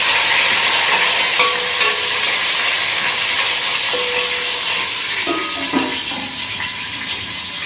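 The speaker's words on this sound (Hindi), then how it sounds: "प्याज जैसे हमारे फ्राई हो जाएंगे" Sliced onions and three or four green chillies frying in a pan, giving a loud, steady sizzle and hiss throughout with a few faint clinks of a utensil.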